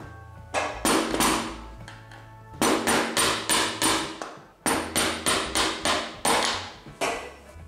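Metal hammer blows on a pinball playfield during a strip-down, sharp close strikes coming in quick bursts of several hits separated by short pauses.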